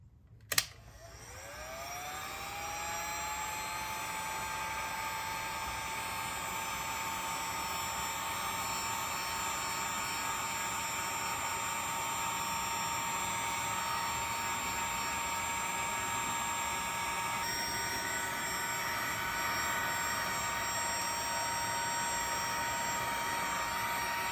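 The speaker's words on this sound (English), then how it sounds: "So you'll just slide that over, and we'll just use the heat gun" Heat gun blowing hot air onto heat shrink wrap during a wiring job on a 1974 Ford F350 dually: a steady, loud whooshing roar with a constant whine that starts after a short click and holds unbroken to the end.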